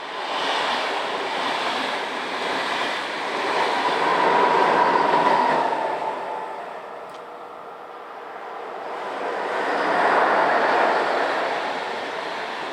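A Swiss Class 460 electric locomotive passing another of its class on Basel services, a sustained rushing roar of wheels and rails that swells twice as the trains go by, close and without talk.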